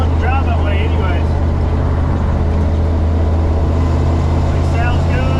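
Steady low engine rumble from a Toyota Land Cruiser with a 350 V8 while driving, loud and continuous inside the cab, with someone talking over it.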